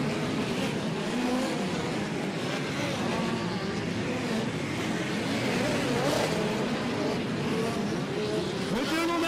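Midget race cars in a POWRi National and West Midget League event at Port City Raceway roar steadily around the track, engines droning continuously at a distance with a dense, unbroken motor noise and no clear speech.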